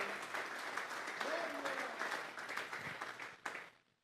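A church congregation breaks into sustained applause, a dense wash of clapping from many hands that swells and then tapers off at the end.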